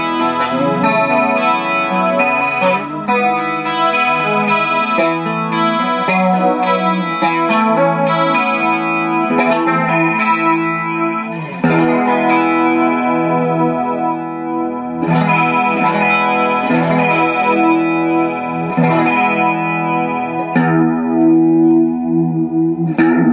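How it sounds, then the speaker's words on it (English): Electric guitar run through a Mr. Black Tunnelworm through-zero flanger pedal set for traditional flanging, sweeping jet-like swirls over sustained chords and notes, loud and continuous with no talking. "you can get some pretty traditional flanging sounds out of this beauty as well"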